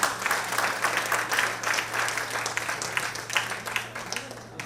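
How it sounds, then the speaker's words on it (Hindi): Audience applause at an annual day celebration, a steady wash of many hands clapping throughout at moderate loudness, with a low constant hum underneath. "आप सबसे गुजारिश करता हूँ तालियों से इनकी सबको उत्साहवर्धन कीजिए"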